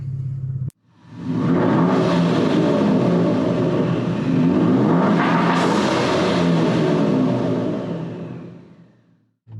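A car on BFGoodrich G-Force Comp-2 tires pulls away after a brief pause, engine rumbling as it accelerates steadily, with a rising revving surge midway, then cuts off abruptly at the end.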